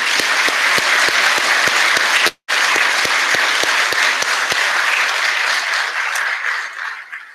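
Loud, sustained applause from a crowd at a graduation ceremony, broken by a brief cut, then continuing before fading out at the end.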